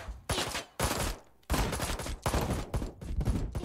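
Dense enemy gunfire in the game Ride to Hell: Retribution, loud bursts of shots in rapid volleys broken by one short lull, with no talking.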